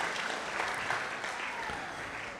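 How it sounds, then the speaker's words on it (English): An audience at a Sunday temple program applauds the cooks, a soft, fairly distant patter of many hands clapping steadily for a couple of seconds. "give a big round of applause to Bhadra Krishna Prabhu and Mother Aditi."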